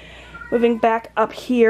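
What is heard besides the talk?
cats crying in the background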